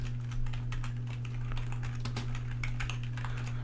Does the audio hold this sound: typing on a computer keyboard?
yes